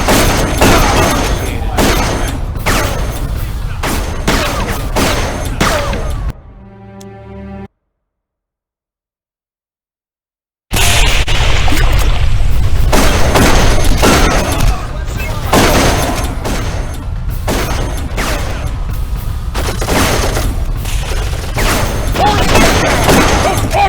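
Turret gunfire and explosions in the video game Darkest of Days, loud rapid bursts and booms hammering on, cutting to silence for a few seconds, then resuming just as heavy.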